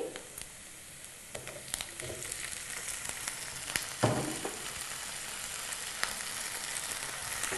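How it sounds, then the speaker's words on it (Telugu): Cauliflower pieces fry in hot oil with onions and green chillies, a steady close sizzle throughout with a sharper splash and crackle as more pieces drop in partway. "ఇప్పుడు ఇందులో కాలీఫ్లవర్ ముక్కలు వేసుకోవాలి"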